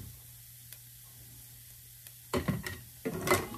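Smoked sausage and potatoes sit quietly in a pan, then a few close, scraping stirs rattle through the pieces over a light sizzle.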